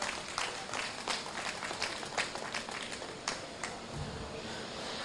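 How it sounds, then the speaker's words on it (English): Audience applause for exhibitors at a National Shropshire sheep show, a steady dense patter of clapping with a few sharper claps, heard from within the crowd at moderate loudness. "Let's give all these exhibitors a nice round of applause for the senior U-Drive."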